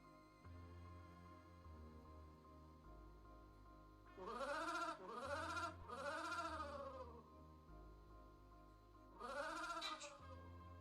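A wavering, bleating moan repeats in several quick, wobbling cries over a quiet low electronic drone, then returns once more after a pause.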